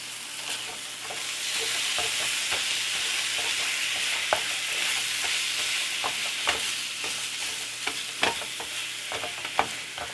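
Half a pound of ground meat sizzles steadily as it browns in a pan, a constant hiss with scattered pops and occasional sharper scrapes of stirring throughout.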